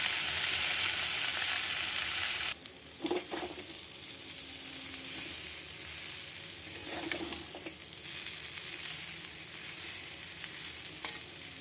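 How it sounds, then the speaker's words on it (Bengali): Capsicum and potato fry in hot oil as a ground spice mix is added, a constant close sizzle with a sudden change in texture partway through and occasional scraping stirs from a spatula. "এবার আমি যে মশলাটা গুঁড়ো করে রেখেছি সেই মশলাটা আমি দিয়ে দিচ্ছি"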